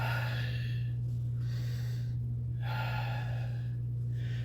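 Qi Gong butterfly breath exercise: audible, forceful breaths in and out repeat in a slow rhythm of about four cycles, close and clear over a steady low electrical hum.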